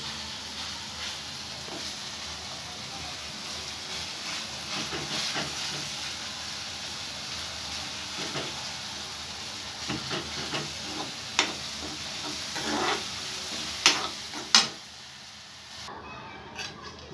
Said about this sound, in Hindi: ये दाल बन रही है